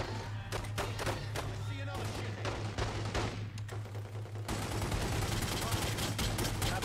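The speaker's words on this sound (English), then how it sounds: "Oh, we've got people we're shooting!" Rapid gunfire bursts from a Godfather 2 video game shootout, dense overlapping shots and thuds running continuously and loudly throughout, with a steady low hum underneath and talk over it.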